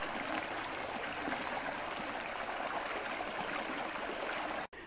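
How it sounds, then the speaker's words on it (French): A forest stream in Oignies, Belgium, flowing steadily below a small path, a continuous soft rush and babble of water heard from a short distance, with no voices. "On entend le ruisseau"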